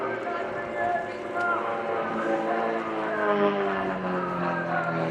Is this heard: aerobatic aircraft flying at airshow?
yes